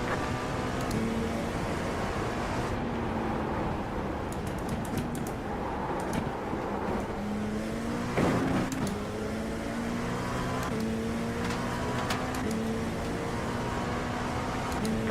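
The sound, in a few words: race car engines in the iRacing video game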